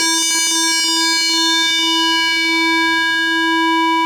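A steady, buzzy FM-synthesized continuous half-sine tone with bright harmonics drones without a break, loud and alarm-like.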